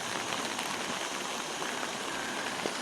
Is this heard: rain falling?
yes